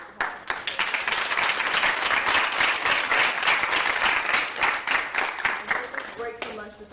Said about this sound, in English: we could just give our panelists and keynote another round of applause